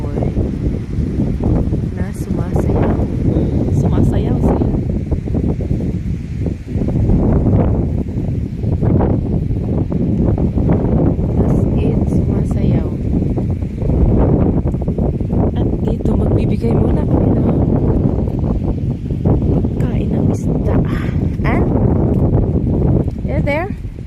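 Strong wind roars against the microphone in a continuous, gusty rumble while voices talk underneath.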